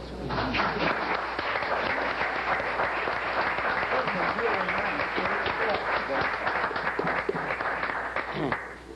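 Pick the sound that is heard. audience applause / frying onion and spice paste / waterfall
audience applause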